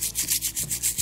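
A brush scrubbing clock parts in a dish of bicarb soda, making quick rhythmic back-and-forth rubbing strokes, about eight in a second, close and clear, no voices.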